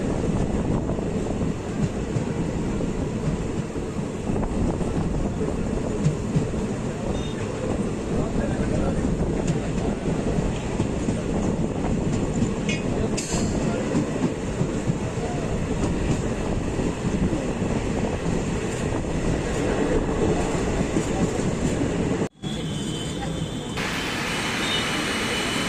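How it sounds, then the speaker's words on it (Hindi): The Kashipur–Kasganj passenger train runs fast along the track on the Lalkuan to Bareilly route, a loud continuous rumble and wheel clatter heard from inside the carriage. "ट्रेन यहाँ पर काफ़ी अच्छी स्पीड अपनी मेनटेन कर लेती है"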